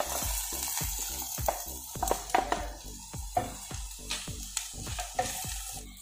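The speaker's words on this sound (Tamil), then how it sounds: "சப்பாத்தி நல்லா டீப் ஃப்ரை ஆகுற வரைக்கும் மிக்ஸ் பண்ணிக்கோங்க." Torn chapathi pieces fry with golden-brown onions for restaurant-style kothu chapathi, with a steady sizzle under irregular metallic clanks and scrapes of a spatula striking the pan.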